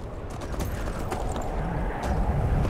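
A horse rides down a cliff in Skyrim, its hooves clopping in a quick uneven rhythm over a rumbling low background, fairly loud and close with no talk.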